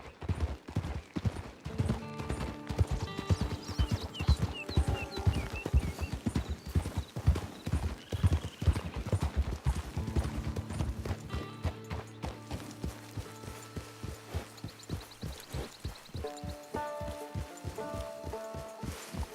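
Horse hooves clip-clop steadily at a walking pace in Red Dead Online, close and clear, with an occasional whinny, creak of tack and faint background tones.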